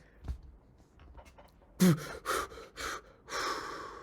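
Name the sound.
voice imitating a sharp gasping breath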